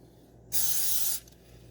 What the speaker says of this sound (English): I'm going to bring this one down, spray it all,